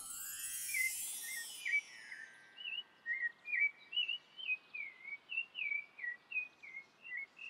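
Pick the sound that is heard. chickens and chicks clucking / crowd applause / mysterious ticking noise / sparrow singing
sparrow singing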